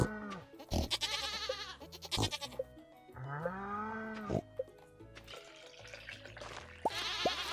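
Several goats bleat in short wavering calls in the video game Stardew Valley, interleaved with synthetic game sounds and chimes; the bleats come close and fairly loud.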